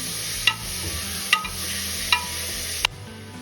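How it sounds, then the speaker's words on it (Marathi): Minced meat with soft onions and tomatoes stirred in a pan for masala keema, a spatula scraping in four distinct strokes over a steady low sizzle. "आता या स्टेजला किमा ऍड करून घ्यायचा किमा व्यवस्थित मिक्स करून घ्यायचा"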